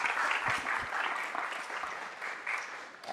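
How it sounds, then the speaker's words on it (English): Applause for a senior transportation deputy departing a city council, a steady wash of clapping throughout, fairly loud and without gaps, with no speech over it. "Please give him a round of applause."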